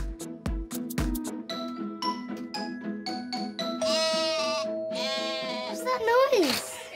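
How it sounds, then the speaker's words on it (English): A sheep bleats in a long wavering cry over cartoon music and a few knocks, loud and close, with a voice briefly present. "It sounds like a sheep."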